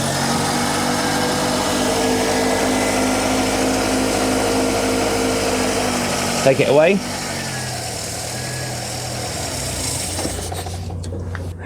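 A VW Polo Mk2 engine with a Solex carburetor idles close by with a steady, slightly rough hum. Someone speaks briefly midway, after which the idle drops to a quieter, lower running note.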